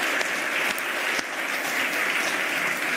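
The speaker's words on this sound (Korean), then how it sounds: "네, 큰 박수 부탁드립니다." Audience at a world strategy forum session gives a brief burst of steady, full applause lasting about three seconds, with no speech over it.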